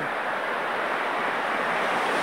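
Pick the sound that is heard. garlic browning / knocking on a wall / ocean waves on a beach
ocean waves on a beach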